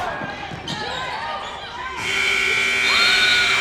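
A buzzer sounds at the end of a quarter in a girls' high school basketball game, a loud sustained electronic tone over crowd noise and ball bounces, with a commentator speaking.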